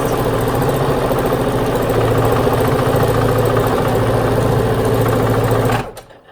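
A sewing machine stitches a quarter-inch seam at 2.5 stitch length across a zipper bag, running in a steady, loud, rapid mechanical whir for several seconds before stopping abruptly.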